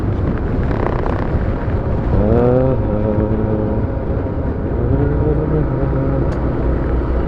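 On a road between Dhaka and Tangail, a bus goes by close to a moving bike, its engine rising in pitch under heavy wind buffeting and a continuous traffic rumble.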